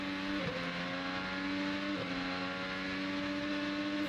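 An IndyCar races along a long straightaway at the St. Petersburg street circuit, its engine a steady, loud, high-pitched whine with brief dips as it shifts up through the gears, continuous and close with no talking.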